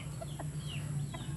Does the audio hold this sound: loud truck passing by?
no